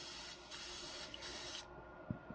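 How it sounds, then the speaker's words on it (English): An airbrush sprays cleaner through its nozzle to work out leftover lure paint, giving a steady, close hiss with two short surges that cuts off abruptly, followed by a soft knock. "Now, my end clean, I do use a cleaner. Spray it in there."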